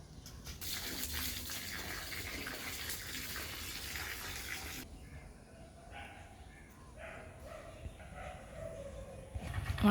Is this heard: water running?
yes